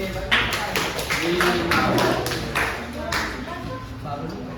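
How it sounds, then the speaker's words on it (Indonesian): A tenth-grade Islamic jurisprudence class claps for a classmate, a loose run of fairly close handclaps over a few seconds with voices and room noise underneath. "Kasih tepuk tangan"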